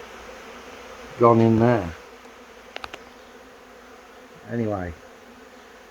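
A honey bee swarm moving into a bee house, with two loud close buzzing passes of bees flying by, separated by quieter background hum, a few faint clicks, and a person speaking briefly.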